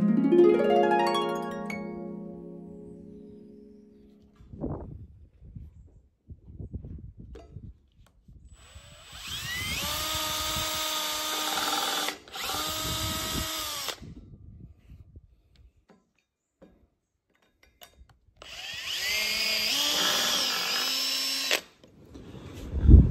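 A power drill drives lag screws into a wooden joist of a barn frame, in two loud sustained whirring bursts that rise in pitch, separated by quieter knocks and handling noise.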